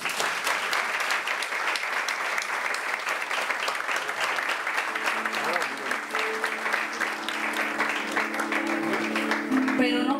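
Wedding guests at a church ceremony break into sustained applause, a dense, loud wash of clapping hands that carries on evenly throughout, with a faint murmur of voices underneath toward the end.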